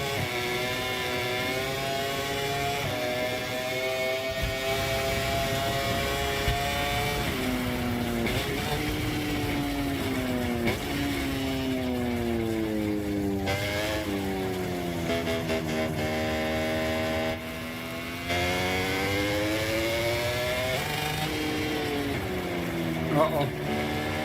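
A motorcycle engine in the MotoGP 24 racing game whines and revs continuously, its pitch climbing and dipping through shifts and corners, loud and close throughout, with a voice talking over it at times.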